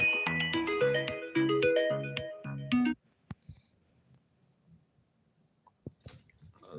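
Phone ringtone playing a bright melodic electronic pattern for about three seconds, then cutting off, followed by faint handling clicks and a few scattered small noises.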